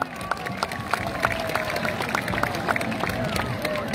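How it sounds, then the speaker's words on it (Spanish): A large crowd at a town festival bullring applauds with steady, scattered clapping, mixed with crowd noise and babble, over the whole stretch. "Fuerte el aplauso."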